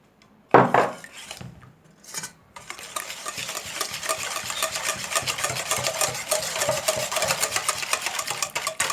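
Eggs and sugar are mixed in a bowl for a cinnamon roll dough, a few knocks and clinks at first, then a steady, rapid scraping whisk against the bowl that grows slightly louder.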